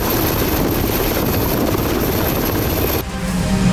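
A naval helicopter sets down on a ship's deck: a loud, close, continuous roar of rotor and engine noise that drops suddenly near the end, then returns.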